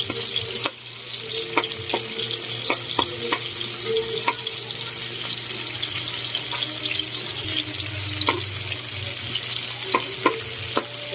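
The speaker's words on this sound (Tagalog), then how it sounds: "Tapos ilalagay na natin yung bawang." Garlic frying in a pan for eggplant adobo with pork: a steady close sizzle runs throughout, punctuated by scattered spoon taps and clicks of stirring.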